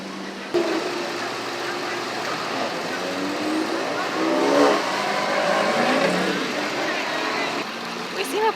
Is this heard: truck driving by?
yes